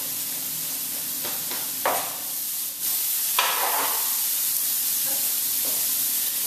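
Eggplant frying and caramelizing in a pan gives a steady broadband hiss with a few brief stirring scrapes and louder sizzle bursts, close and continuous with no talk.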